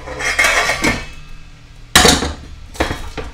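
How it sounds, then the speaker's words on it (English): A spoon clanks and scrapes against a metal pan while a roux is stirred, producing three loud, close bursts of metallic clatter separated by quieter pauses. "Give it a stir."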